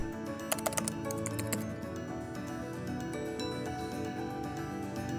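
Quick bursts of typing on a computer keyboard, crisp clicks clustered near the start and then scattered taps, over a faint background hum.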